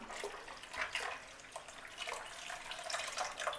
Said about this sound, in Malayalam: അപ്പോൾ നമുക്ക് ഇതിലേക്ക് ആവശ്യമായ വെള്ളം ഒഴിച്ചു കൊടുക്കാം